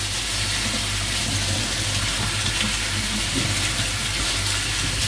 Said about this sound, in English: Just gonna strain it, take all the water out of it.